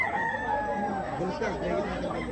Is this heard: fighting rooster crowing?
yes